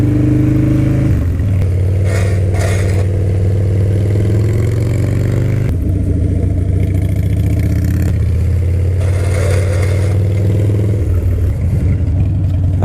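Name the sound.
Harley-Davidson Dyna motorcycle engine while riding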